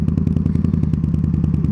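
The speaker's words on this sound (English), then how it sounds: "I'm able to sort of ticking over at 1200, tiny bit of revs, and we're just crawling up it nicely" Indian Scout Bobber motorcycle fitted with a V Performance exhaust, idling at about 1200 rpm while crawling up a hill, giving a steady, close, rapid pulsing thump with no talk over it.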